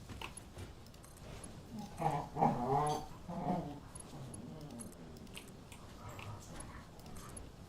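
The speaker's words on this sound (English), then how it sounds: "Don't mind the playing pups." Puppies playing nearby, with soft growls, whimpers and scuffling in short bursts, loudest for a couple of seconds in the middle over a low room background.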